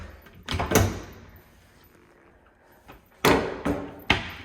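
Large kitchen drawers sliding open and shut in an apartment kitchen, heard as two pairs of solid thuds and rolling clunks separated by a quieter pause.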